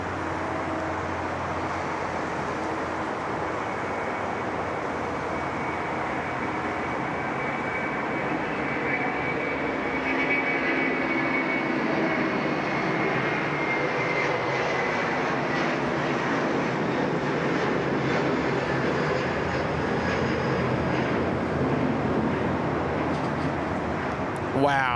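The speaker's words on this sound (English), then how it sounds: "Wow, what a takeoff." A domestic airliner takes off from Sydney Airport, its steady, broadband jet engine roar sustained and fairly loud, swelling slightly midway, heard from a distance with faint background chatter.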